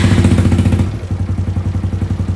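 Honda Grom motorcycle engine idling steadily after being reassembled, a loud close-up rhythmic low putter with a slight dip in pace partway through, no talking.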